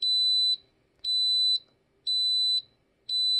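Instant Pot pressure cooker sounding a bright, steady electronic beep, four evenly spaced half-second tones about a second apart, clear and alone over a faint low hum.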